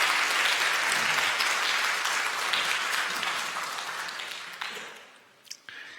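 Welcoming applause from a church congregation during a Sunday service, sustained and broad at first, then thinning out and fading to a few scattered claps near the end.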